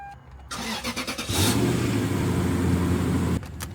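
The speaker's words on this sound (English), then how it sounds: "Now we start the car." A Lexus LS400 engine starting after coolant is added: a few rhythmic cranking pulses, then the engine catches and settles into a steady close idle before a clunk and noise at the end.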